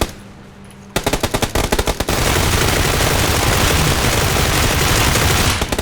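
PUBG: Battlegrounds squad gunfire: a burst of rapid automatic shots, then a dense, continuous roar of firing that keeps going loudly to the end.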